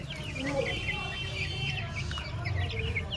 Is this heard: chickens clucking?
yes